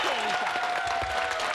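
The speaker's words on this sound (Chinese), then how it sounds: "来掌声鼓励一下" Studio audience applause fills a television variety magic show, a dense, even wash of clapping throughout with a voice briefly audible underneath.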